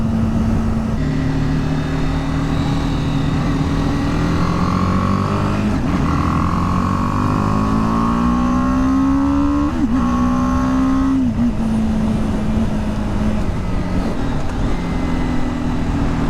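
A BMW G310R single-cylinder motorcycle engine drones loud and close while riding, the pitch rising and falling through gear changes against constant wind rush.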